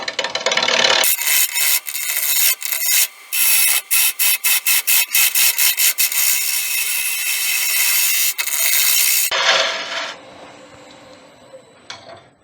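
Close-up wood lathe work as a parting tool cuts a wooden dowel for a sword's crossguard and handle: a bright, dense scraping hiss broken into rapid rhythmic bursts, then steady cutting, with no talk.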